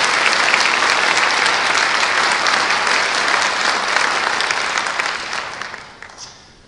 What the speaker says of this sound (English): round of applause for the top 21, Mr. Kozawa